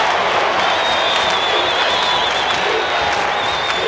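A basketball arena crowd cheers during a 1994 college game between Indiana and Evansville, a loud, sustained roar filling the hall. A thin whistle-like tone drifts over the noise.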